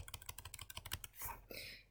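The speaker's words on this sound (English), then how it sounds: "you're just going to simply start typing in here to answer" Rapid computer keyboard typing, a quick run of close, crisp key clicks for about a second, followed by a softer rustle and a faint breathy sound.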